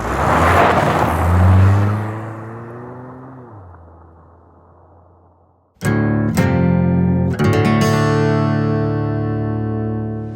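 A car drives along a road on the Isle of Skye, its loud, steady engine note falling away, then surging back abruptly and holding strong and close.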